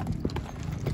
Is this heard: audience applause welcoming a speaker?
no